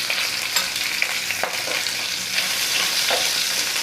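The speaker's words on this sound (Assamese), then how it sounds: "এতিয়া মই মাছখিনি ইয়াতে দি দিম এতিয়া ইয়াতে মই অকণমান হালধি গুড়ি দি দিছোঁ" Fish pieces frying in hot oil with a little turmeric powder in a pan, a steady close crackling sizzle that carries on throughout, with no one talking.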